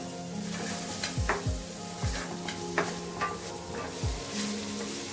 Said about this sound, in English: Saute it for a few minutes.